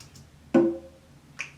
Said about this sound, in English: And I also have these stomps and claps, which is just, and snaps.